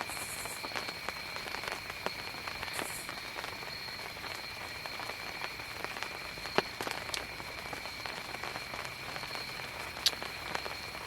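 Rain falls steadily on a woods camp, a soft even patter with occasional sharper drips against a surface, alone with no voices.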